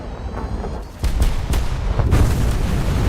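Deep bomb blast from an Arado plane striking near a ship in a naval combat game, a heavy low rumbling boom that swells and sustains loudly amid battle noise.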